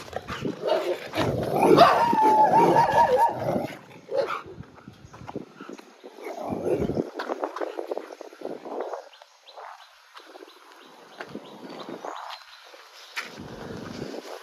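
Dogs barking outdoors in Goa, with a burst of louder yips and barks early on, then scattered, fainter barks and whimpers over quiet morning ambience.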